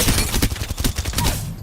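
An SMG is hip-fired in a video game, giving a rapid burst of gunshots in a quick, evenly spaced rhythm, loud and close throughout the brief clip.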